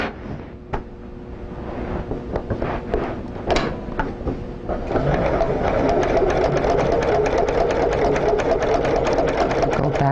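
A sewing machine stitches an embroidery design, starting with scattered clicks and knocks before settling into a steady, fast mechanical whir that runs close and continuous through the second half.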